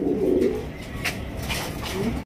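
Almond-colored fantail pigeons, large-sized birds, give low, soft cooing that rises and falls over the short stretch, close by with no talk.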